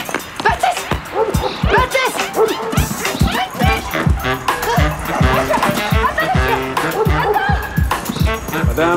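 A loose dog in a park barks in quick, loud repeated bursts, close by, while people talk over and between the barks.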